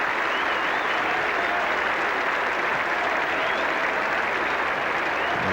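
A big Edgbaston cricket crowd at an England v Australia Test in 1985 applauds a 300 partnership, sustained loud clapping from many hands that fills the ground, with faint voices underneath.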